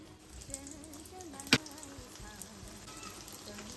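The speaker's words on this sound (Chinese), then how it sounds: "接下来电饼铛预热，多倒入适量的食用油，接着把我们的烧饼生胚给它均匀的摆进来" Sesame flatbread dough pieces laid into a preheated electric griddle with a generous layer of cooking oil give a faint, steady sizzle, broken by one sharp click; a quiet voice is heard underneath.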